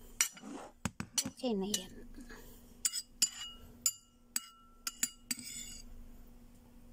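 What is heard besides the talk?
utensil mixing eggplant dish in a bowl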